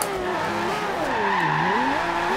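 Aston Martin One-77 sliding in Forza Horizon 2, with loud close tire squeal wavering up and down over a revving engine during a short continuous drift.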